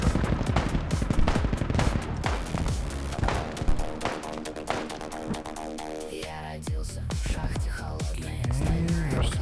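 Gunfire in the military shooter Squad crackles as dense, loud bursts of rifle and machine-gun shots, with rapid volleys and thumps layered over continuous battlefield noise.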